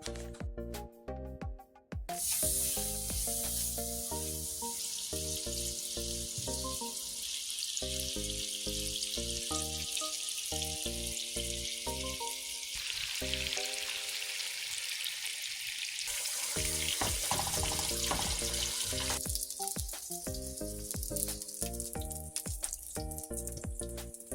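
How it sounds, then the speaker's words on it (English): Salmon fillets frying in a pan give a steady, loud sizzle that runs the whole time, with music playing over it and no talking. "you're gonna cook these about 4 to 5 minutes on each side, because you know salmon is very easy to cook"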